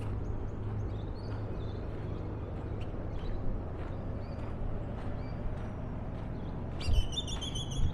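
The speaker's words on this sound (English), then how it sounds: "So many birds." Many birds calling from the roof of an old ranch house in Sahuaro Ranch Park, Glendale, Arizona, with scattered high chirps throughout and a louder burst of calls near the end over steady outdoor background noise.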